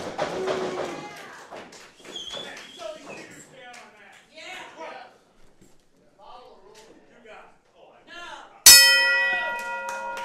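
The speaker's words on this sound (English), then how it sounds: "the opening bell has sounded" Voices chatter over a wrestling crowd, then a single sharp metallic ring bell strike rings out loudly and sustains with a bright, lingering tone.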